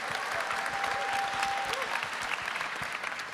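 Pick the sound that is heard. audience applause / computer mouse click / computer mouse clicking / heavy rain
audience applause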